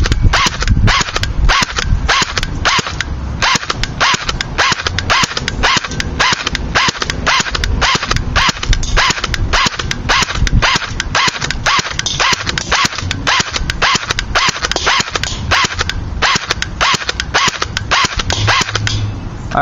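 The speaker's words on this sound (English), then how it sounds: "we're going to be shooting at semi-automatic first." A CYMA CM 027-J airsoft rifle fires on semi-automatic at a 100-foot target, a long, steady run of sharp, evenly spaced clicking shots, close and loud, with no talking.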